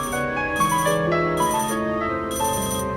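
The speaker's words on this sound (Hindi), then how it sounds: "फोन आ रहा" A phone ringtone signals an incoming call: a loud, steady electronic melody with repeating bursts of bright chiming notes, playing alone without talk.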